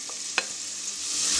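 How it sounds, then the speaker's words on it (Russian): Leek stirring into melted butter in a saucepan: a soft scrape of the spoon, then a gentle sizzle building steadily, close and quiet, with no talking. "После того, как масло растопилось, отправляем в кастрюльку лук-порей."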